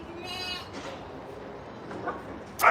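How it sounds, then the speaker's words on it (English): Sheep bleat on a farm, several wavering calls close by, one early and another sharper cry near the end, over a low murmur of farmyard background noise. "Look at all the sheep."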